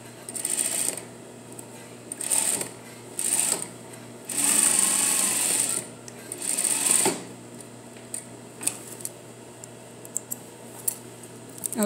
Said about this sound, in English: this half inch notch is telling me sew a half inch seam this way